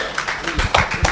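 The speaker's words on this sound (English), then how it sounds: "Let's give you a proper round of applause." Brief burst of audience applause at a stakeholder conference session, a short run of scattered claps with a voice faintly mixed in.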